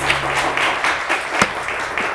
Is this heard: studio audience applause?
yes